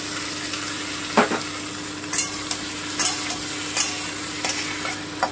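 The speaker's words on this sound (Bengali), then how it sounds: "এবার আমি একটু ভেজে নিচ্ছি, ব্রাউন ব্রাউন করে একটু ভেজে নেব" Taro pieces frying in oil in a pan, a continuous soft sizzle broken by several sharp scrapes and knocks of stirring at uneven intervals, close and without talk.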